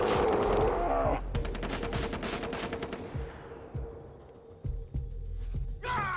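Rapid bursts of automatic gunfire and scattered shots from enemies in the shooter game Far Cry 3, loud and dense at first, then thinning into sporadic cracks over a steady background hum.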